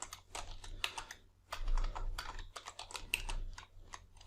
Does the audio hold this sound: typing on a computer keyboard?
yes